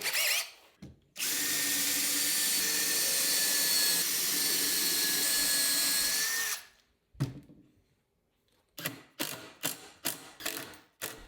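A metalworking lathe turns a rough metal circle mounted on a faceplate, giving a loud steady machine whine with a sustained tone for several seconds. After it stops, a series of sharp mechanical clunks and ratcheting knocks follows.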